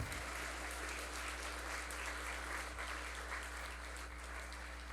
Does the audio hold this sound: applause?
yes